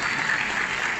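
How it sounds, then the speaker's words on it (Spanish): A short burst of dense conference applause for Humberto del Cerro, a crowd clapping steadily for about a second with no speech on top. "Un fuerte aplauso para mi amigo Humberto del Cerro."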